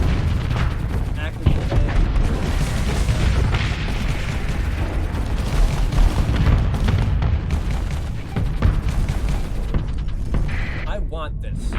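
Torpedoes firing and exploding in the space combat game Starsector, a dense continuous barrage of booms and rumbling blasts, loud throughout, with a voice speaking briefly over it.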